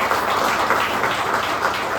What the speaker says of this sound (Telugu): give them a big round of applause